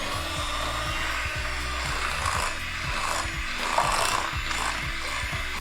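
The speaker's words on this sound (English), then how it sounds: "now we're gonna beat this until it's light and fluffy" Butter and sugar being beaten together for a Christmas rum cake, a steady whirring rasp of the mixer running continuously and fairly loud throughout, with no talking.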